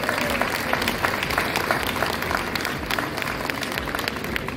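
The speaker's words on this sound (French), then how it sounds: "Merci à Madame, on peut l'applaudir, Monsieur Létoré." Seniors' banquet audience of about 1,100 guests applauding the caterer, dense, steady clapping from a large crowd filling the hall.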